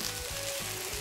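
Onions and celery softening in a crock-pot, giving a steady soft sizzle with faint stirring scrapes and a low hum underneath.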